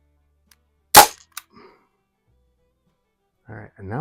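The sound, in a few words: Crosman M1 carbine air rifle shooting BBs at target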